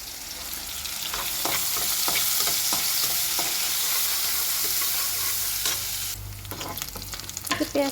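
Chopped onions sizzle steadily in a hot pan for a bitter gourd and prawn fry, with repeated stirring scrapes and clicks throughout and a louder burst of frying near the end; no one speaks.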